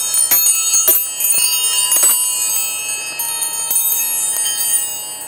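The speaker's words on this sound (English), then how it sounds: "It's kind of like a space station" Metal tools drift and knock together inside a toolbox aboard a space station, giving bright, ringing chimes with several clustered hits and lingering tones close to the microphone.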